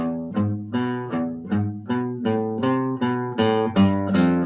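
A plucked Spanish guitar phrase of quick repeated notes with fast hammer-on and pull-off ornaments, played alone, clear and close.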